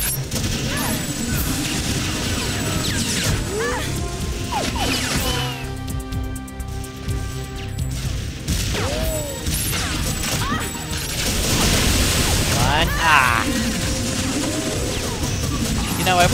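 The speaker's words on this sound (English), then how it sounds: "you can just easily blow up the fuel barrels with your pistol" Fuel barrels exploding after pistol shots in TimeSplitters 2: a dense run of crashing blasts and gunfire under game music, with loud bursts clustering toward the end.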